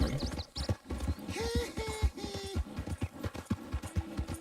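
Horse hooves clip-clop at a quick gallop in Red Dead Redemption 2, a steady rhythm of close thumps with a few whinnies and snorts layered over it, heard alone without talk.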